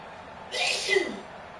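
One short, fairly faint sneeze bursts out indoors while a Green Bay Packers football game plays, with low background murmur around it.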